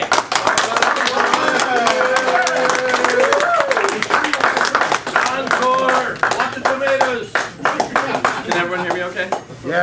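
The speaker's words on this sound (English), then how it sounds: "let's have a warm round of applause for our speaker" At a Common Cause Illinois gathering, an audience gives the speaker a round of applause. Sharp individual claps ring out close by, mixed with overlapping chatter and voices throughout.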